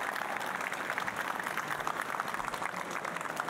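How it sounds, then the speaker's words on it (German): Audience applause at an award ceremony for a painting prize, a steady wash of many hands clapping at moderate volume, dense and continuous for several seconds with no one speaking. "Einen großen Applaus."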